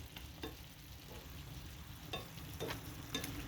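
Snow peas and tofu stir-frying over low heat, a soft steady sizzle broken by a few scraping stirs of the utensil, close and moderately quiet with no voices.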